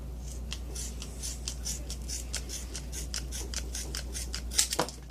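Scissors snip through leather for a leathercraft axe sheath, a series of close, crisp cutting strokes in an uneven rhythm over a quiet steady hum, ending with a louder scrape.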